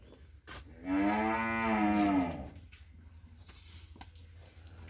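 A lone cow or bull moos once, close and clear, for about a second and a half at a rural cattle market, set against faint background noise, with no voices.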